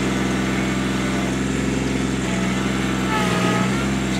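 A 2001 Kubota B7500 compact diesel tractor with a 60-inch belly mower, driving in high range in four-wheel drive: a steady, loud engine drone that stays continuous and close throughout.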